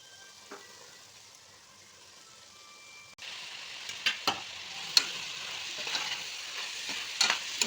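Mixed vegetables for a seeraga samba vegetable biryani go into a hot pan: quiet low hiss at first, then a sudden loud sizzle that keeps going, with sharp spoon clacks as they are stirred.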